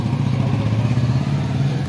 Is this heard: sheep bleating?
no